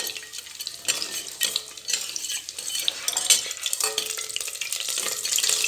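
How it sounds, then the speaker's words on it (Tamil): Fennel, cumin, cinnamon, cloves and cashews roasting in a pan for coconut milk pulao, a soft crackling sizzle with repeated spoon scrapes and clinks against the metal. "இந்த சோம்பு ஜீரகம் இதெல்லாம் போட்டுட்டு பட்டை கிராம்பு லவங்கம் அப்புறம் முந்திரி பருப்பு இதெல்லாம் போட்டுக்கிறீங்க போட்டுட்டு இதை நல்லா வறுத்துக்கிறோம்"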